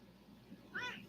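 One brief meow from a grey house cat rises out of low room noise near the end, nearby and moderately loud, with a slight downward bend.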